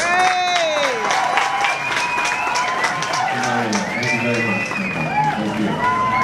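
Large audience applauding and cheering at a live concert on a 2017 winter tour, steady dense crowd noise with voices and whoops throughout.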